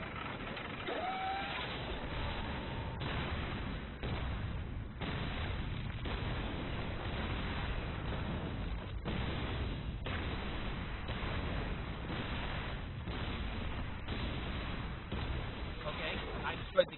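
Sgt. Hammer pounds a gate and towers with a steady stream of loud video game explosions and mechanical firing, continuous and dense for the whole stretch, with no clear pauses.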